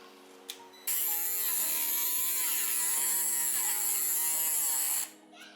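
A battery-powered tool runs with a steady high-pitched electric whine on the last transmission bolt, loud and close. It sustains for about four seconds, with slight shifts in pitch, before cutting off.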